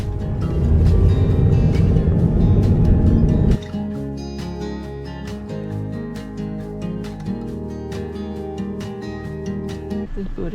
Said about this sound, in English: Just booting up in my car.